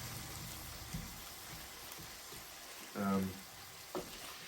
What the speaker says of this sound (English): we're just going to go ahead and rock and roll this beef up on the sear side up here